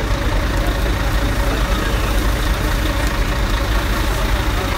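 Massive water cannon trucks idle at the G20 protest in Hamburg, a loud, steady, low diesel rumble that fills the scene without pause.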